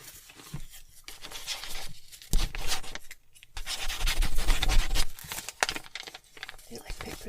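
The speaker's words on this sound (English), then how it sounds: "You like paper sounds?" Paper is rubbed, crinkled and handled close to the microphone for ASMR, giving uneven bursts of scratchy rustling with brief quiet gaps between them.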